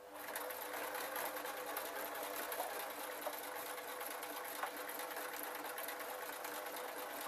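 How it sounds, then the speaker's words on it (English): A sewing machine runs a zigzag stitch over a seam on a baby outfit sewn from a pillowcase: a steady, close mechanical whir that continues unbroken, with no voices. "I'm just putting it to a zigzag stitch"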